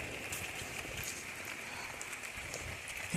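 Heavy rain pours steadily outdoors near a garden of hibiscus and lemon plants, a soft, even wash of hiss with no breaks, fairly faint.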